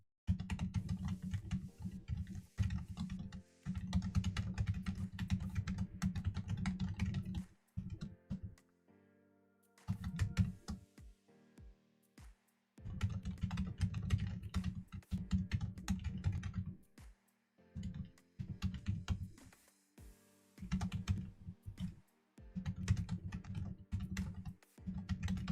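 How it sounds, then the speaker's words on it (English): Rapid clicking of typing on a computer keyboard, dense bursts of keystrokes broken by short pauses, close and fairly quiet in a still room. "is the microphone picking up the typing?"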